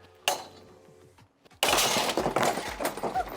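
A bear trap with powerful springs snaps shut on a mannequin. A faint click and quiet lead-in give way to a sudden, loud explosive crack and a crashing, rattling burst of breaking debris.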